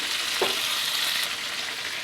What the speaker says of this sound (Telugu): కరివేపాకుని కూడా వేసుకుందామండి. బాగా ఫ్రై చేద్దాం.